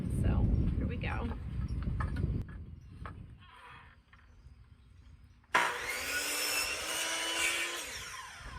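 Rough, rasping sawing of pallet wood starts abruptly midway and continues steadily and loudly, following a stretch of quieter handling noises and scraping.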